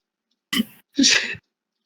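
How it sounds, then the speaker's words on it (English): Two quick sneezes in a row, close and sharp, the second louder and longer, with silence around them. "Was that sneeze in character for both of you?"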